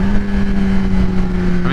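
A 2021 Kawasaki ZX-10 sportbike engine with a flashed ECU runs steadily close by, holding a constant droning tone through a gear shift, with a brief rise in pitch near the end.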